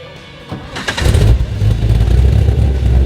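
A Flyin' Miata fitted with an LS376/525 V8 with a hot, lumpy cam fires up and settles into a loud, close, deep, throbbing rumble that holds steady to the end.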